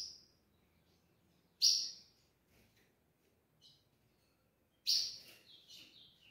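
Young blue grosbeak chicks give a few short, high chirps in separate bursts, with quiet gaps between calls and no talking.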